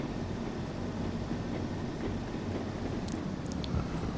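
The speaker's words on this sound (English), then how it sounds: "So all that's happening is the train's slowing down." A Trans Pennine diesel train in Train Sim World rumbles steadily while slowing down, a continuous low engine drone with faint clicks near the end and no talk.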